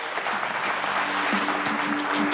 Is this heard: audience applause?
yes